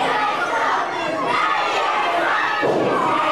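Irate crowd at an independent wrestling show, a loud continuous roar of shouting and booing with children's voices mixed in and occasional thumps, under steady commentary.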